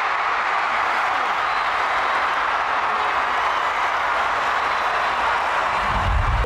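Crowd at a charity football match cheering and applauding a goal, a dense, steady roar of many voices and claps that stays loud and unbroken throughout.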